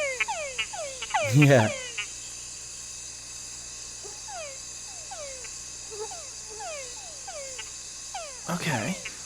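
Several frogs of the kind called the laser beam frog give short downward-sweeping zapping calls in quick irregular series over a steady insect-like drone, with brief voices at the start and near the end.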